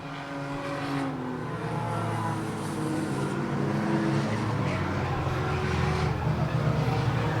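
Race cars in an enduro event circle an oval track, their engines forming a continuous loud roar that swells and fades as cars pass through the turns, with no talk over it.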